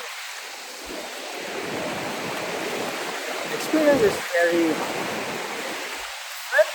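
Strong ocean waves wash continuously onto Boracay beach in August, a broad steady surf roar with a few brief louder surges near the end, while someone speaks softly over it.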